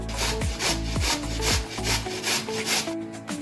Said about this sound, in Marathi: आता हे किसून घ्यायचं.